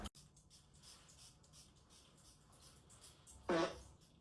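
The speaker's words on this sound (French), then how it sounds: "Pourquoi tu pètes?" A short, low fart sounds once near the end, preceded by quiet rustling and faint background noise.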